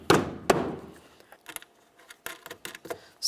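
Two solid thunks come from a tail light being tapped into place on a 2007-2012 Nissan Sentra. Softer clicks and light knocks follow as the lamp settles against the body.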